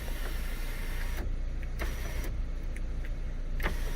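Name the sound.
Scion tC sunroof motor running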